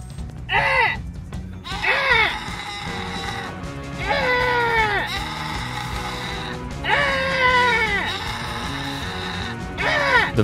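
Several loud, wavering bleats cry out in bursts over a busy background, each call rising then falling in a drawn-out, almost human-sounding wail.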